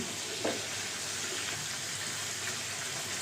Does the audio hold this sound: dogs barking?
no